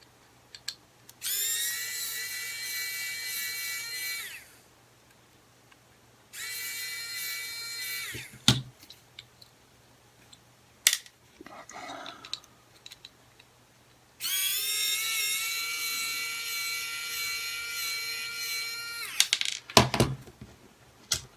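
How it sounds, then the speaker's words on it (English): A small battery-powered screwdriver from Wilko's whirs in several short high-pitched bursts, close up, separated by pauses with faint clicks and handling knocks. "Useful little screwdriver that I picked up from Wilko's. It's only battery powered."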